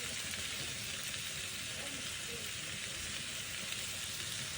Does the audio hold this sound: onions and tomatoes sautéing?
yes